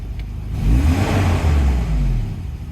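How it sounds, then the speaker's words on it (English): Volvo redblock engine, freshly overhauled, revving up and settling back toward idle: a close, loud mid-pitched engine rumble that swells and eases over a few seconds. "It drops to idle perfectly. It doesn't really dip down at all."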